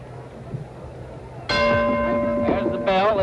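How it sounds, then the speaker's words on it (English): A boxing ring bell ends round two of a 1957 heavyweight bout, clanging sharply after a quieter crowd murmur, with a second strike a moment later ringing out over the arena noise. "There's the bell."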